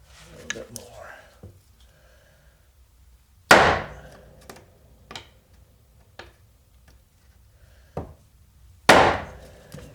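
A part for an MGA/MGB three-synchro gearbox is hammered into place by hand in a home garage, with a handful of sharp, irregularly spaced metallic blows, some hard and close, separated by quiet pauses.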